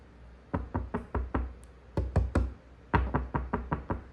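Knuckles rapping on a gypsum board wall in three quick clusters of four or five hollow knocks, close and fairly loud, with no speech over them.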